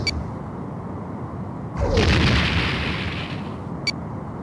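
A ship explosion in the Star Trek: A Final Unity space combat game, a sudden broad rumbling blast that swells and fades over about two seconds, followed by a short electronic blip; no one speaks.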